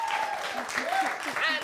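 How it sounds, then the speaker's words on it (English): An esports event audience claps in a brief burst of applause, heard under a presenter's voice and lasting under two seconds. "Let's give her a round of applause,"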